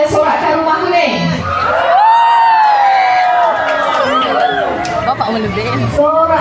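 Spectators at an open men's 1500 m race cheer and whoop for the yellow house team, a loud, close crowd roar with shouts and babble throughout.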